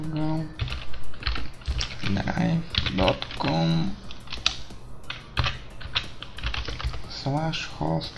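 Typing on a computer keyboard while setting up a Counter-Strike 1.6 server download URL, a fast run of clicky keystrokes heard close, with a person talking over much of it.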